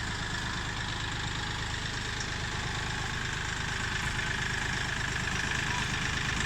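A Kioti CK 3510 hydrostatic compact tractor idles steadily nearby, with a continuous low engine rumble and no break across the whole stretch.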